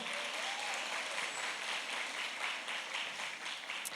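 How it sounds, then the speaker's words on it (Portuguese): A church audience at a women's congress gives steady, dense applause for the whole stretch, moderately loud and unbroken, with no voices standing out. "Você pode aplaudir ao Senhor?"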